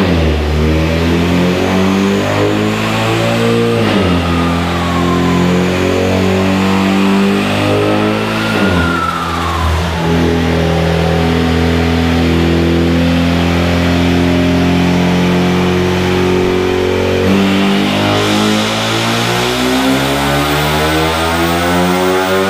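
A Ford Ecoboost Mustang fitted with a Comp 5858 drop-in turbo roars on a dyno, loud and continuous, its engine pitch climbing steadily through the gears with brief dips at each shift.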